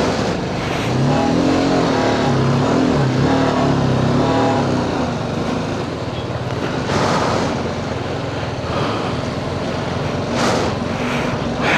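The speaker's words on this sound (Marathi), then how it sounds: "डेंजर ट्रॅफिक जाम झालं आहे." Traffic jam on the Jammu to Rajouri mountain road: a loud, continuous rumble of idling and creeping vehicle engines, with occasional nearer engines swelling and passing.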